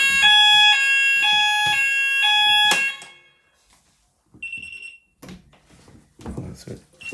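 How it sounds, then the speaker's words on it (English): A fire alarm sounds after its test button is pressed: a loud, close, electronic warble repeats in regular pulses for nearly three seconds, then cuts off, followed by clunks and people talking. "hopefully when we press this, the red light comes on and the alarm goes off"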